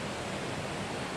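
Paddy's River Falls gushes in a dense, steady roar of rushing water, constant and unbroken.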